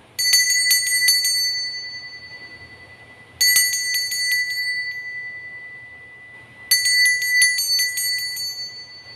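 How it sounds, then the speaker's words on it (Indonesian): A small bell rings three times in separate bursts, each a quick cluster of bright metallic strikes that rings out and slowly decays, marking the start of a tarot reading in a quiet room. "Kita akan memulai dengan ditandai lonceng berbunyi."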